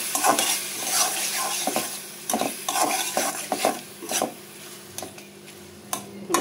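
Dried loitta fish (shutki) fries with onion paste and garlic in a pan, sizzling under repeated scraping strokes of a spatula stirring against the metal, close and fairly quiet, with no talking.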